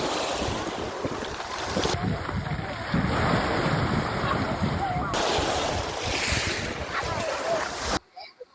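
Sea waves on the beach at Gonio, a continuous loud roar of surf mixed with heavy wind buffeting the microphone, steady throughout before cutting off abruptly near the end.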